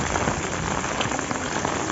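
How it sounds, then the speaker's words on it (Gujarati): Steady rain pours down during a red-alert downpour in Porbandar's Kutiyana area, forming a dense, even hiss of drops on surfaces that stays close and loud throughout with no pauses. "વરસાદ ચાલુ જ છે"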